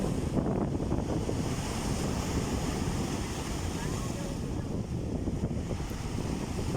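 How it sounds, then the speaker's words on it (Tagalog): Strong sea waves at Manila Bay roar continuously with heavy wind buffeting the microphone, a dense, loud, unbroken wash of surf with no talk. "Tapos siya, malakas ang alon."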